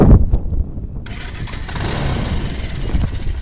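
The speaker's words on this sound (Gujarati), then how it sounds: "ગાડી એક જ સેલ્ફે સ્ટાર્ટ થઈ ગઈ છે" A Bajaj Pulsar 220 motorcycle fires up on its self-starter, a short loud crank burst then catching into a steady, rumbling idle, close to the bike.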